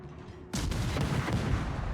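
Naval shellfire in a World of Warships battle, a sudden loud boom that rolls into a sustained, rumbling barrage of blasts filling the rest of the moment.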